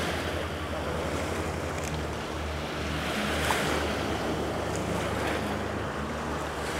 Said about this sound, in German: Sieht wunderschön aus, wenn die Wellen so das Wasser irgendwie wieder zurückziehen.